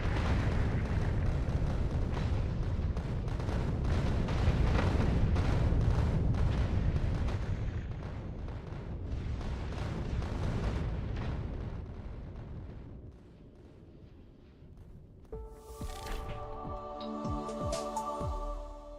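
A rocket launch in the video game Factorio, a long, loud roaring rumble that swells and slowly fades, followed by a chiming tonal game cue near the end.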